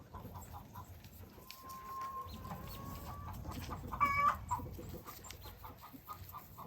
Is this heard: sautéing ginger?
no